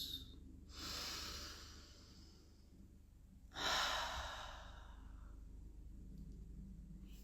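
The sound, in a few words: deep breathing, inhaling through nose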